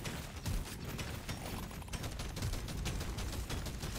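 An elite enemy in Deep Rock Galactic: Survivor fires quick bursts of gunshots in rapid rhythm amid dense combat noise. The sound is fairly quiet in the mix.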